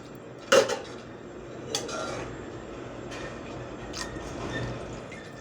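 Fish gravy is stirred in a metal pot, a spoon clinking and scraping against the sides with a few sharp knocks at first, then a soft wet squelching of thick masala gravy, close and quiet, with no talking.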